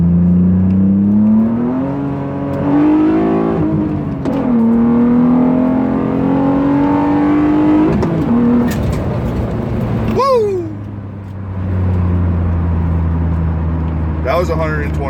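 A modified Mitsubishi car revs and accelerates in steady rising engine pulls, loud and close, with brief gear-change dips and a whooshing pass near the end.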